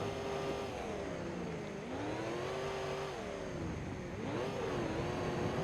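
Car engine in the BeamNG Drive video game, drifting on a dirt off-road trail, revving steadily with pitch swooping up and down as it accelerates and slides, loud and continuous with no talk.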